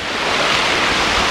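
Black Sea waves washing onto the beach at Anapa, a loud, continuous rush of surf close to the shore with wind buffeting the microphone.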